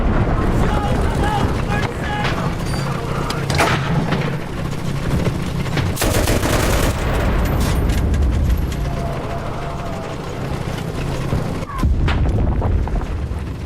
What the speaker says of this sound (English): Wait, I'm being mortared.